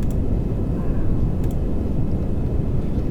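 Rocket engine in the game Kerbal Space Program throttling up, a steady loud broadband roar with deep low rumble that holds constant throughout, with no talk.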